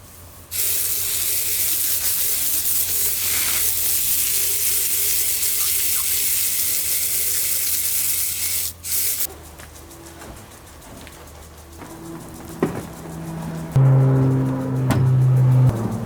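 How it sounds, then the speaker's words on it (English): Water from a tap sprays loudly and steadily over freshly harvested Butter and Sugar heirloom corn, dirty and sticky from aphids, in a backyard garden, then cuts off, leaving quieter dripping and splashing, with birds chirping nearby. "Just gonna rinse it off because it's dirty and very sticky from aphids."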